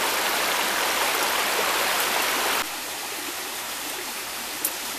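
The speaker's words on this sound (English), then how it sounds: "I found a nice river" The Rio Homem flows over stepping stones in the Gerês mountains of Portugal, a loud, steady, broadband rush of water that drops slightly in level midway and continues evenly, with no talking.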